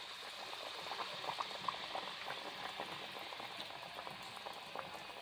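Antasha pitha batter deep-frying in oil in a kadai, a quiet continuous bubbling crackle with small popping bursts, steady and fairly faint, no voices.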